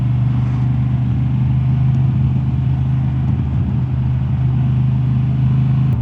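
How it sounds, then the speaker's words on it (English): Honda Transalp 750 motorcycle ridden at low revs, its engine and exhaust giving a steady, loud, even drone throughout with no talking. "if you ride the Transalp in the lower revs, very relaxing engine sound. Also the exhaust, pleasant sound."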